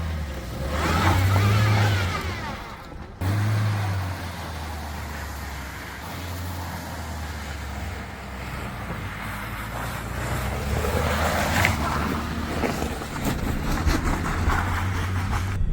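A Hyundai Creta facelift (2024) drives down a rough, snowy mountain road above 3000 RPM, giving a steady engine and road drone with wind buffeting the microphone and loud low rumbles at the start.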